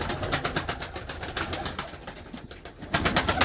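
Pigeons coo softly in a coop during cleaning, with a low, steady murmur of cooing and rapid fluttery rhythmic pulses close by.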